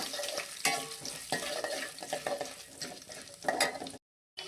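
Chana dal and urad dal tempering in hot oil with cinnamon, a steady crackling sizzle broken by spoon-stirring scrapes against the pan, nearby and moderately loud, no voices, ending in a brief silence.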